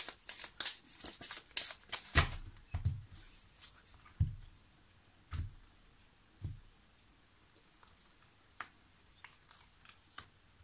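Tarot cards are shuffled close by in a series of crisp, irregular snaps and riffling flicks, with bursts crowded at the start and sparser, isolated slaps afterward.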